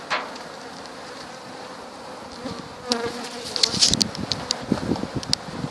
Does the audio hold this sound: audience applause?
no